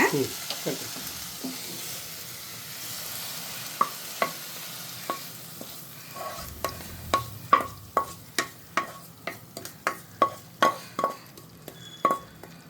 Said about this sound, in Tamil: நம்ம அந்த புளி தண்ணி கொதிக்குது இல்லையா அதில் கொட்டிடலாங்க